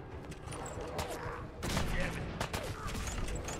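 Gunfire in the Fallout 4 video game comes as a dense run of sharp shots and bursts over low background noise, growing louder midway.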